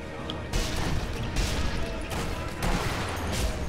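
Grenade blasts and gunfire erupt in the video game Sniper Elite V2, loud dense bursts of explosive noise rising and breaking off in several waves, with a voice faintly underneath.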